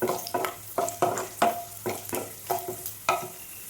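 Raisins frying in hot oil for coconut rice, a bright close sizzle punctuated by regular scraping stirs of a spoon against the pan, about two strokes per second.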